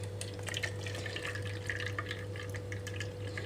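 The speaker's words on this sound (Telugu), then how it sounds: "నేనైతే ఇక్కడ స్ట్రైనర్తో ఫిల్టర్ చేస్తున్నాను మొత్తం కూడా ఇందులోకి వేసేసుకుంటున్నాను" ABC juice strains through a kitchen strainer into a container with a steady, close trickle and scattered light drips over a constant low hum.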